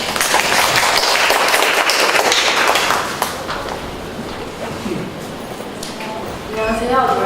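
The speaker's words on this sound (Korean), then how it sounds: "박수로 보내주세요." Audience applause at a startup demo day presentation event: dense broadband clapping for about three seconds that then fades into lighter scattered claps, with voices underneath.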